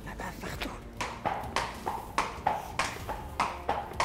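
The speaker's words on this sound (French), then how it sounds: "un cheval de bientôt 5 ans" A nearly five-year-old horse moving around a stable yard, its hooves striking the ground in a steady, evenly spaced clip-clop of about a dozen fairly close steps.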